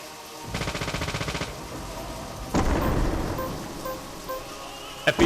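Machine gun fire in a video game: a steady rapid burst of evenly spaced shots, followed by a heavier booming blast that rumbles and fades, with a couple of sharp knocks at the close.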